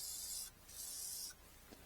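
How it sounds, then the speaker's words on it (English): Two short bursts of WD light oil hiss from a spray can onto the rocker arms of an Allis Chalmers engine on a LeRoi 125 CFM air compressor, close and crisp, with a faint tap afterward. "We'll start just with some WD, a light oil. We'll spray all of our rocker arms"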